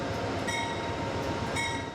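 An Amtrak passenger train rumbles past with a dense, continuous roar of wheels on rail and faint high squeals, no voices present.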